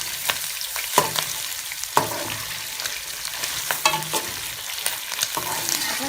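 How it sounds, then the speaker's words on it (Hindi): Mutton sizzles in hot oil in a karahi while it is stirred, with a constant loud frying hiss broken by sharp scraping knocks of the spoon against the pan at irregular intervals. "ऑयल हमारा काफ़ी गर्म हो चुका है, तो अब हम इसमें इसकी बुनाई करेंगे"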